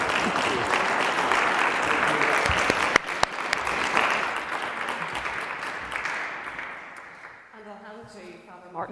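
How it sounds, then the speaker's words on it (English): An audience at a panel talk on Laudato Si' gives the guests a warm round of applause, dense clapping that fades over several seconds before a voice begins speaking at the end. "we'll give our wonderful guests a round of applause"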